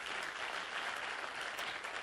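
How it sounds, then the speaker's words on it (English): An audience at a medical conference applauds, a dense, steady patter of many hands clapping throughout. "Ladies and gentlemen, a big round of applause for Narain"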